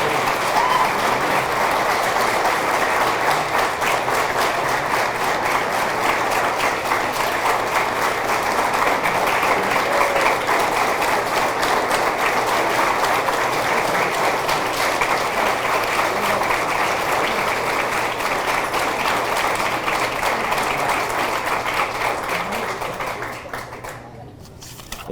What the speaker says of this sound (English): Let's give all of our athletes and contributors a big round of applause.